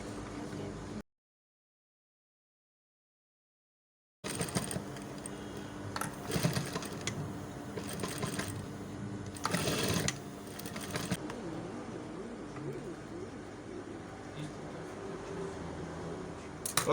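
A sewing machine runs in steady bursts while stitching a welt pocket with a tiny stitch, starting after a short silent gap and continuing close and fairly loud with brief pauses, faint cooing birds in the background.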